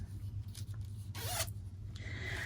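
A YKK zipper used for sewing is handled close by in a quiet room, with one brief zip sliding in the middle and faint rustling around it.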